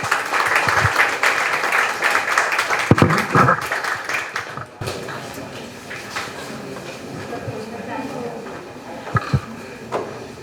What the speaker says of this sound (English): Let's have a huge round of applause for ma'am.